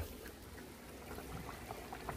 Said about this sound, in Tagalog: Ulo na yung ating tubig